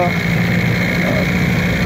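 A small petrol engine with a carburetor, choke and electric start idles steadily close by, a continuous even hum without revving.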